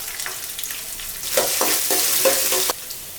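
Green chillies, finely chopped ginger and curry leaves sizzle and crackle in hot oil in a pan, a steady close frying hiss with bursts of louder spitting pops, no voices.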